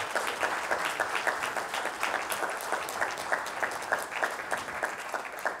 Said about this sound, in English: And please give them another round of applause.